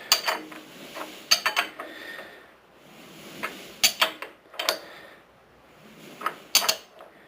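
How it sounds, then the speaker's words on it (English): Crankshaft timing sprocket on a 460 engine being slid and tapped onto the crank: sparse bright metallic clinks and scrapes in several small clusters, close and fairly quiet against a silent background. "That way the crankshaft sprocket slides nice and fairly good on the crank"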